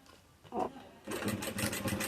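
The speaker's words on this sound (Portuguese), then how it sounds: "é só eu encaixar aqui na máquina e fazer a minha costura" A sewing machine stitches through a plastic Easter egg holder, its needle running in a quick steady burst of close mechanical chatter after a short lead-in, with no talking.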